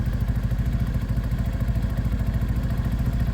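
A Sinnis Outlaw 125 motorcycle engine runs steadily nearby, giving a raw, throbbing low putter with a faint mechanical clatter. No one speaks over it.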